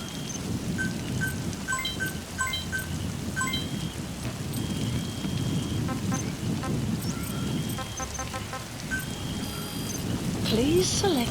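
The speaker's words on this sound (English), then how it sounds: "Sound of rainfall should help to mask your footsteps." Steady rainfall patters throughout in Metal Gear Solid V: The Phantom Pain, joined by scattered electronic beeps and chimes, with a brief louder swell near the end.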